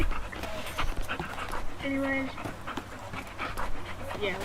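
A dog pants in quick, rhythmic breaths close by, with a person talking over it and brief higher whimper-like tones in the middle.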